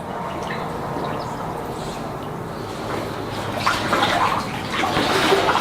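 Feet wade through flood water inside a shop after Hurricane Delta, giving sloshing, splashing swishes that grow louder and more frequent toward the end, close by and with no talking.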